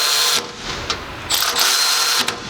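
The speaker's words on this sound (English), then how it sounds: "look at the torque when you go full throttle on it" A Milwaukee high-speed cordless ratchet runs at full throttle, a loud, close, continuous motor whine with gear buzz that surges and dips briefly across about two and a half seconds.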